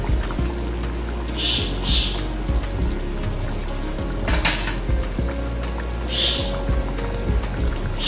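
Ghee is poured from a half spoon into a jackfruit kabab curry, a soft, steady pour with light clinks of utensils and pot in a quiet kitchen.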